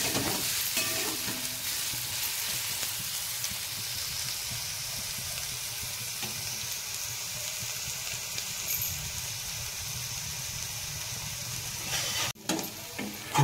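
Onion for a spicy prawn masala frying in oil until brown, a continuous close sizzle with stirring scrapes, ending in a couple of louder knocks.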